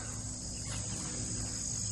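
Crickets chirp in a field as a steady, continuous high trill that fills the background evenly, faint and unbroken with no voices.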